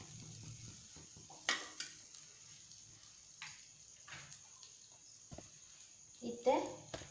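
Chicken pieces frying in butter in a pan, a soft steady sizzle with occasional louder crackles and spatters, fairly quiet and close.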